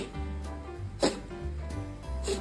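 A pet house cat coughs in a fit of short, sharp bursts, about four of them spaced roughly half a second apart, fairly close and over a steady tonal background hum.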